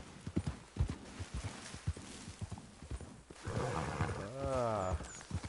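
Horse hooves clip-clopping at a steady walking rhythm in Red Dead Redemption 2, close and moderate, followed by a drawn-out whinny toward the end.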